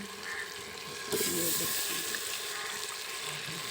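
Potatoes tipped into hot frying masala in a pot, a sudden burst of sizzling and splashing that settles into a steady loud fry, with someone briefly speaking over it.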